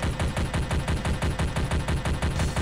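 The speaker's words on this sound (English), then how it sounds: "We have, the chain gun." Rapid, steady bursts of chain gun fire from the Doom video game, each shot a punchy thud in a fast, even rhythm, loud and continuous with no talk over it.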